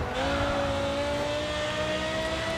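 Audi R8 race car engine revving hard in the racing game GRID 2 on the French Riviera, a loud, steady, high-pitched drone with a slowly rising tone.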